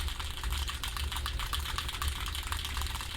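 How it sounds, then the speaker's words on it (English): Keys clacking on a computer keyboard, picked up through a Logitech Blue Sona microphone alongside a low constant fan hum; rapid, fairly loud, clanky keystrokes run continuously throughout with no talking. "And then here's me typing on the keys."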